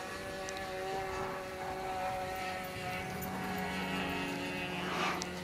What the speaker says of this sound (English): That is a highly aerobatic airplane.